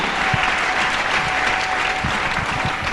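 A church congregation applauds during a sermon on offerings, with dense, steady clapping from many hands filling the room from start to finish and a few voices faintly mixed in.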